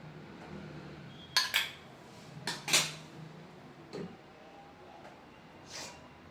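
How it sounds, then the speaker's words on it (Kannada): Fish fry masala is mixed with oil in a bowl, making a few close clinks and scrapes of a utensil against the bowl in short clusters, with quiet gaps between and no talking. "ಈಗ ಮಸಾಲೆನೆಲ್ಲ ಚೆನ್ನಾಗಿ ಮಿಕ್ಸ್ ಮಾಡಬೇಕು. ಅದಕ್ಕೂ ಮೊದಲು ಒಂದು ಸ್ವಲ್ಪ ಆಯಿಲ್ ಹಾಕೋಣ."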